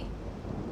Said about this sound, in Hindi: कैलाश गरज रहा है महादेव।